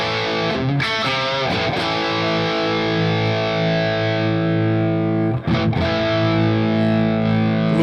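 An electric guitar plays through a REVV G20 amp with the aggression switch engaged, giving a thick, heavily distorted, sustained chord with a few picked attacks and a brief choke, loud and close with no speech.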